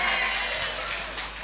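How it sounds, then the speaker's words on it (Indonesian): Audience applause for a high school principal at a post-election performance and dialogue event, a steady wash of clapping from the crowd throughout, fairly loud and even. "Baru bapaknya banyak yang tepuk tangan"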